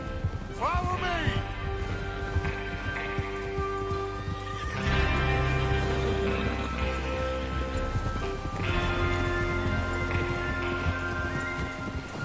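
Horses neigh and whinny in Red Dead Redemption II, with a sharp whinny early on. Rain patter, hoof sounds and a game music bed run beneath, with speech-like voices mixed in.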